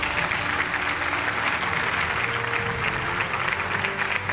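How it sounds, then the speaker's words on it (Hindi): Audience applause at an award show, a steady dense wash of many hands clapping continuously for the whole stretch at even loudness, with no talk over it. "भरपूर तालियां होनी चाहिए"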